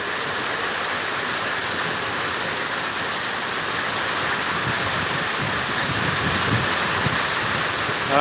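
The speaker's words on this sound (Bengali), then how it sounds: "সেখানে বৃষ্টি হচ্ছে" Heavy monsoon downpour driven by stormy wind in Bagatipara, a steady, dense roar of rain that stays loud and unbroken throughout, with no voices.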